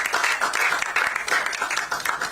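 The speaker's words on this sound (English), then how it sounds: "Please, let's welcome him with a round of applause." An audience at a professional bodies' speaker series in Ghana claps to welcome an architect panelist, a dense, close round of applause with individual claps audible throughout.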